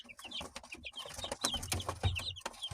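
Several young chicks cluck and peep close by in quick, overlapping bursts, with no talking.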